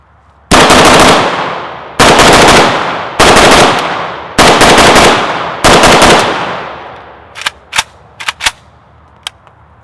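An AK rifle fitted with an MDC muzzle brake fires five loud, sharp bursts, each one followed by a fading echo. A few softer, quieter cracks come after them near the end.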